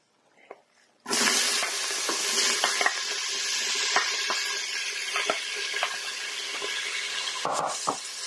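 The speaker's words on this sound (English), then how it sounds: "Now that the oil is hot, I'm going to put the rest of the ingredients in here, starting with the celery." Chopped celery dropped into hot oil for potato soup bursts into a loud, steady sizzle after a brief quiet start, with occasional stirring knocks and a scrape near the end.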